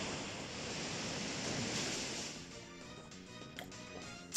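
The Surf move in the Pokemon game Rising Ruby, a broad rushing wave-like wash of noise that swells and then eases off, steady and moderately loud with no talk.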